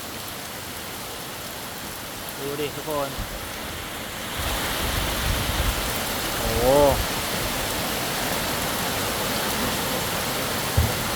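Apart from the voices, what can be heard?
heavy rain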